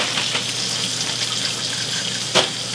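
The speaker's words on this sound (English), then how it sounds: "Mom was washing the celery." Tap water runs steadily into a kitchen sink while celery is washed for hamburger and cabbage soup, a constant near hiss with a couple of brief splashes and no talk.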